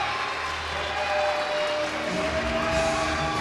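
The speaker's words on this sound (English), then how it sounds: "He is getting a standing ovation from the crowd" A crowd at a wrestling show rises in a standing ovation, sustained loud applause and cheering filling the space evenly, swelling slightly toward the end, with no voices standing out.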